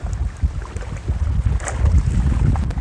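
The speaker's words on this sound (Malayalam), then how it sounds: "നല്ല കാറ്റടിക്കുന്നുണ്ട്." Strong wind buffets the microphone in low gusting rumbles that rise and fall, with no voices, outdoors on a waterside island among coconut palms.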